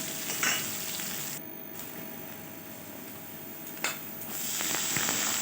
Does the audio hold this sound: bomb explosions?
no